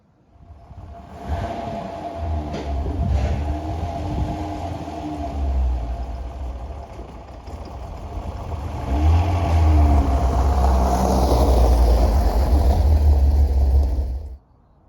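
An Alfa Romeo car engine hums and revs steadily as it drives along, rising in pitch and loudness midway as it accelerates, heard from inside.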